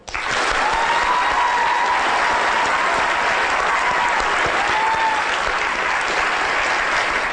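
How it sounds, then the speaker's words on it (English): A lecture audience at a brain science talk breaks into loud, sustained applause that swells quickly and holds steady, dense clapping with no voices over it. "could we give a warm round of applause to Talia and Professor Ian Lyburn"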